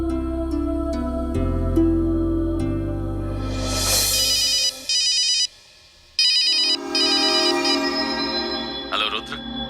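An electronic telephone ringtone plays as a bright, repeating melodic trill, loud and close, with drawn-out tones and a brief gap partway through; a TV drama scene with background music.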